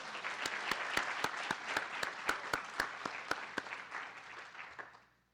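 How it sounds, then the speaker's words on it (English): Applause from an audience at a college State of the College event, with some sharp individual claps standing out over a steady wash, gradually fading out over about five seconds. "Let's give her another round of applause."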